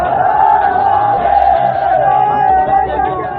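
A large rioting crowd in Udaipur roars and shouts loudly and continuously, a dense mass of overlapping yells close by.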